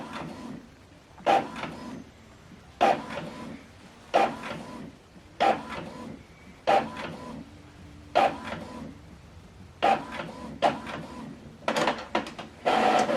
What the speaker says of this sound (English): this document now is going to print out